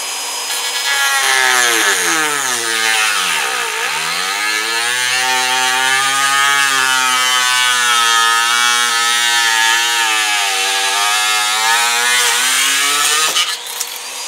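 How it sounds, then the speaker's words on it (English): Handheld Dremel rotary tool cutting through a Kydex knife sheath, a loud continuous high whine that dips and rises in pitch as the bit loads and frees, heard close and alone. "I'm actually holding a Dremel steady and I'm running this around is what I'm actually doing here"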